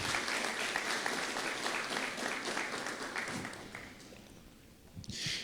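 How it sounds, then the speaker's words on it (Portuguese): Church congregation clapping for Jesus during a sermon: loud, dense applause that fills the room for about four seconds, then fades, with a brief sharp sound near the end. "Pode dar uma salva de palmas a Jesus?"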